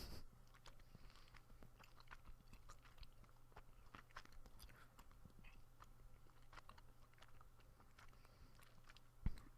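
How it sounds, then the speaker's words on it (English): Bubble gum being chewed close to the mic, a steady run of soft wet smacks and small crunchy clicks at a quiet level, with one sharper snap near the end. "I'm sorry about that really loud chewing sound."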